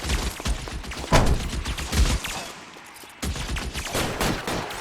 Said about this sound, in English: Let's take out the shotgun.